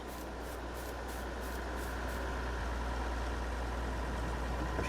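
A tractor engine idles steadily in a farming simulation game, a continuous low rumbling drone with no talk.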